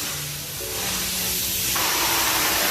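Spray gun hissing steadily as red paint goes onto Brembo brake calipers of a Cadillac CTS-V in a paint booth, a continuous airy spray that grows slightly louder and brighter partway through, with no talk.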